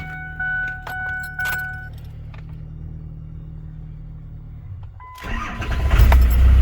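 A Cummins diesel engine in a Ford truck cranks and catches near the end, rising into a loud, rough rumble after keys jangle and a low steady hum.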